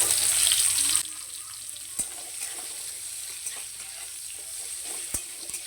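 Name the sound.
chopped onion frying in mustard oil with dry chilli and cumin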